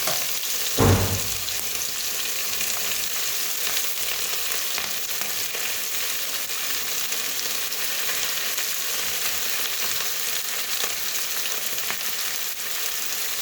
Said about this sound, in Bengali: পেঁয়াজটা আগে দিয়ে হালকা ভাজা হতে হয়